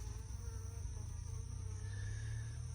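Honey bees buzz at an opened hive holding honey, pollen and capped comb: a steady, dense drone with a constant whine, loud and close, continuing without pause.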